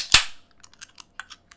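A beverage can cracked open once, a sharp loud pop and hiss up close, followed by faint fizzing ticks and small clicks.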